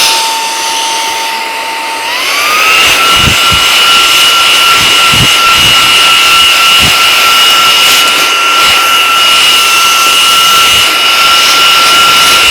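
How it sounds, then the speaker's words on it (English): A vacuum cleaner works over the outside of a second-hand Gucci luxury bag. Its motor pitch rises as it spins up, then settles into a loud, close, continuous whine, with a few soft knocks from the nozzle against the bag. "I'm just going to vacuum outside the bag too."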